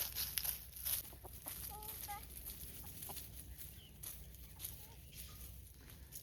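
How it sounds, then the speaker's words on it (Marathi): Hens resting on a farm beside cut pigeon-pea stalks give a few soft, short clucks and calls amid steady outdoor background noise, fairly faint and intermittent. "कोंबड्या बसलेल्या आहे."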